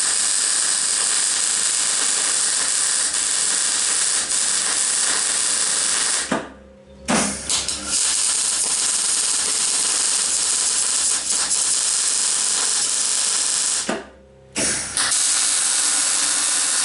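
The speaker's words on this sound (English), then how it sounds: "I just welded it on with 2 little tack welds here" Steady, loud buzzing hiss of welding tack welds while fitting tram wheels to a mini-digger, running in two long stretches with brief breaks around six and fourteen seconds.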